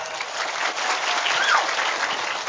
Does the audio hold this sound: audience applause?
yes